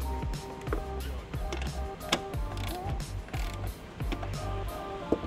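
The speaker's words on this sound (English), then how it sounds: "We'll take our ratchet, just hit them once, to make sure that they're good and snug." A ratchet tightens bolts on a trailer hitch being installed on a 2016 Chevy Equinox, giving several short bursts of close, crisp clicking pawl ticks separated by brief pauses.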